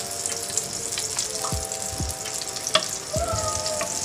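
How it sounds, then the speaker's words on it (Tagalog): Chopped garlic sizzles in melted butter in a pan, a steady frying hiss with occasional pops and clinks of utensils, and a faint tonal hum in the background. "Saka natin ilagay yung ating garlic, mga hiniwa-hiwa, tinadtad na garlic."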